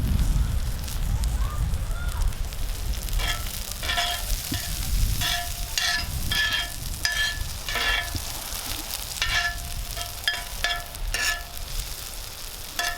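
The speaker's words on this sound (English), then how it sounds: "watch that sizzle up." Meat and trimmings sizzle and crackle over a firepit beside a tomahawk steak, a steady frying hiss with bursts of popping, fairly close, with a crackling wood fire underneath and no talking.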